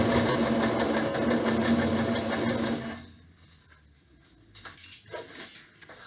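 A sewing machine stitches through thick pillowcase fabric layers in a fast, continuous whirring run for about three seconds, then stops, leaving quiet room sounds with faint dog whimpers.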